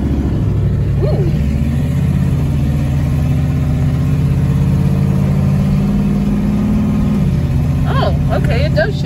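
A 1972 Oldsmobile Cutlass engine running steadily from inside the car, a loud low rumble with a gradual rise and a shift in pitch as the automatic changes gears, with people talking over it.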